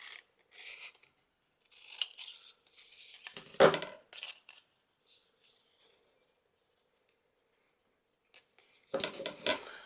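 Scissors cutting through a grungy fabric pocket: a series of crisp, close snips and short cutting runs in irregular bursts, separated by quiet pauses.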